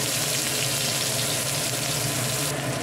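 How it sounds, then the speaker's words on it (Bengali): Dried chili, bay leaf and onion fry in hot oil with steady, dense sizzling, close and continuous throughout with no voices. "লঙ্কা, তেজপাতা, পেঁয়াজটা দিয়ে দিলাম"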